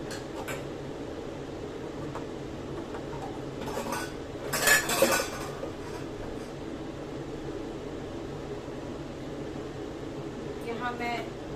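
Metal utensils clink and scrape while dhaniya panjiri is transferred into a vessel, a short cluster of bright clatters in the middle over a faint steady fan hum.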